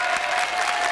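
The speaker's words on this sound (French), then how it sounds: "Vous pouvez l'applaudir, Gilles Amado, parce que quand même." Steady, dense applause from a French television studio audience fills the whole moment, close and even, with no voices over it.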